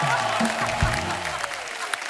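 A studio audience on a comedy talk show claps in a dense, continuous round of applause, steady and fairly loud throughout the short stretch, with a voice faintly underneath.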